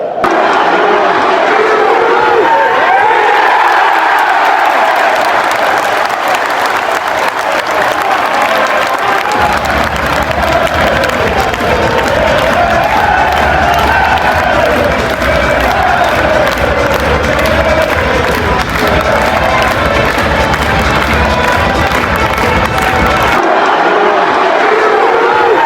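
NAC Breda ultras, travelling fans at Carrow Road for a Norwich City match, chant and cheer loudly and without pause, a dense roaring stadium crowd with a rumbling low swell through the middle.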